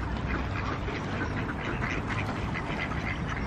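Ducks quack repeatedly at a park pond, a busy overlapping chatter of calls over steady outdoor background noise with no talking.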